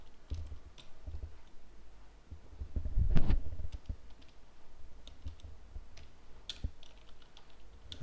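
Someone types HTML code on a computer keyboard, producing soft, irregular key clicks in short bursts with a louder cluster midway, close and quiet over a low room hum, with no talk.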